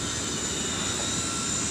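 A tower crane's hoisting motor runs with a steady, continuous mechanical hum and broadband drone, loud and unbroken throughout with no voices.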